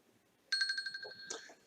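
Siri-set timer alarm sounding on a phone, a bright repeating electronic chime that starts abruptly after a moment of near silence and pulses loudly for about a second.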